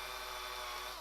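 A power drill bores into plastic in a short burst, its high steady whine running evenly throughout without talk.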